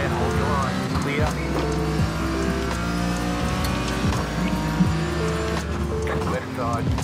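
Race car engine in a sim racing video game revs and drones continuously with shifting pitch, brief tire squeals mixed in, while a spotter talks over it throughout.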